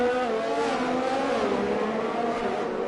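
F1 cars in a racing video game at Monza roar out of the pit lane, layered high engine whines revving steadily and loudly for the whole stretch with no talk over them.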